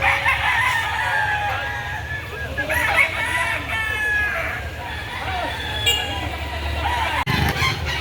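Roosters crowing and hens clucking at a Saturday chicken market behind SM Lipa City, Batangas, several birds calling over a busy outdoor murmur with voices and passing vehicles underneath.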